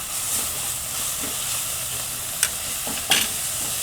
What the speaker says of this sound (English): And you just saute it for 30 seconds to 1 minute